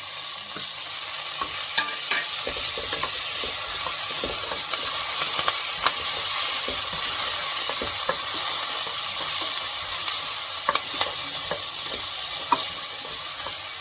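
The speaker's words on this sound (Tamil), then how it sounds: "வெங்காயத்து கூட இந்த 2 பச்சை மிளகாய், கருவேப்பிலை போட்டுறேன்." Onions frying with green chillies and curry leaves for paruppu arisi sadam, a steady close sizzle with stirring scrapes and small crackles throughout, no talking.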